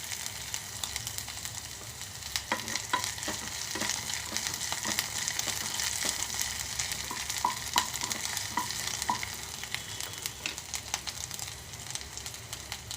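Curry leaves crackle and spit in hot oil, an even sizzle dotted with sharp pops and stirring taps throughout, close and fairly loud with no voices.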